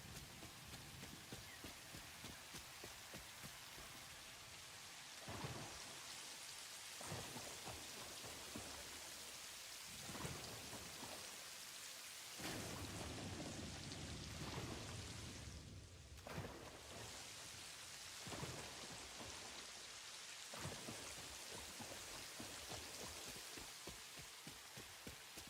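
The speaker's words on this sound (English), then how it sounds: "Love the rain in Satisfactory." Rain pours steadily through a storm in the video game Satisfactory, a dense continuous hiss with brief gaps and faint low rumbles of thunder, with no speech.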